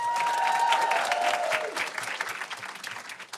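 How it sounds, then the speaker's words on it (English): The crowd at a business conference applauds a panel of speakers, with full, dense clapping and a few cheers that gradually thin out and fade. "Y'all give them a round of applause."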